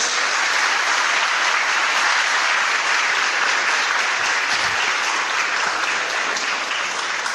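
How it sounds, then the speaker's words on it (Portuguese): Congregation applauding during a church sermon, a dense and even roar of clapping from a large crowd that holds at full strength throughout without any voice over it. "Vamos aplaudir a palavra de Deus."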